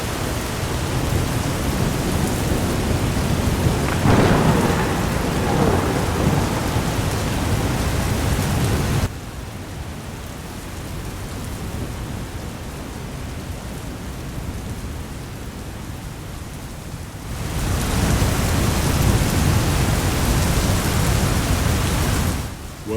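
Steady heavy rain pours on a rainy West Coast day, a dense hiss that drops quieter in the middle then swells back to full force, with no voices.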